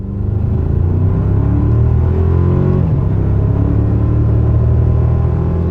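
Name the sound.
2024 Toyota Tacoma with Magnaflow exhaust accelerating 0 to 60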